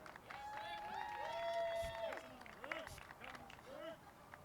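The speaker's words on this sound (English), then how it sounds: "let's give a round of applause to Rick." Crowd at an outdoor rally for the wedding and events industry breaks into applause and cheers, with clapping mixed with raised voices and whoops that swell and then fade over a few seconds.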